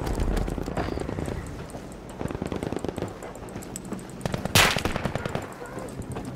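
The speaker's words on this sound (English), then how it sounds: "I heard somebody shoot right at, right by me" Gunfire from the video game Battlefield V, rapid bursts of shots crackling in quick succession through the whole stretch, with one sharp, louder blast standing out near the end.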